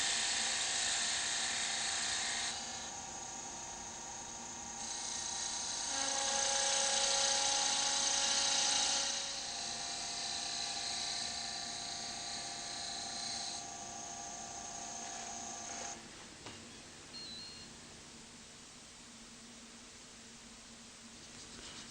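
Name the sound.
wood lathe turning a piece with a spindle gouge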